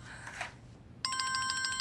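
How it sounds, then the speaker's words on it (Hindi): A telephone starts ringing partway through, a bright electronic trill repeating rapidly and steadily after a moment of faint background noise. "हर फोन की घंटी पे दिल धड़कने लगता है फरीदे।"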